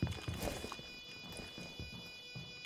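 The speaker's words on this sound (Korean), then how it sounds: "피아노 쪽 발소리." Footsteps sound near the piano in Rainbow Six Siege, a quick run of soft, rhythmic thuds that start louder and then continue more faintly.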